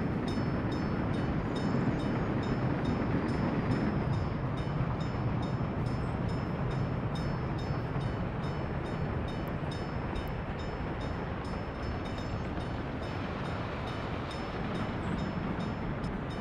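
In Workers & Resources, a subway train runs straight through a signal. Its steady, dense rumble and rail noise carry on without a break, loud and close throughout.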